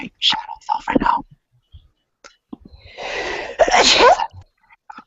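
A single loud, close sneeze bursts out during a casual group hangout conversation, following a few earlier bits of talk and faint noises.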